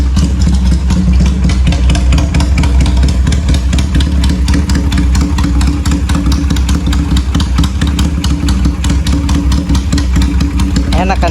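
Benelli PE250 motorcycle engine idling close up with its carburetor set lean for economy, a steady, loud, even rumble with a fast regular pulse running unbroken throughout.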